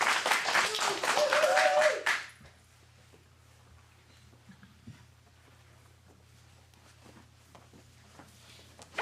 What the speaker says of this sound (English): one more round of applause for our last sketch